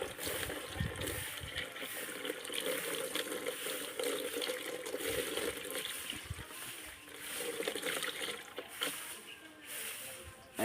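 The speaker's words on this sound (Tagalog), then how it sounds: "Lalagyan natin ng tubig." Water pours and splashes into a plastic ice wrapper bag, a rushing, bubbling stream with crinkling plastic that rises and falls over about ten seconds, close and fairly faint.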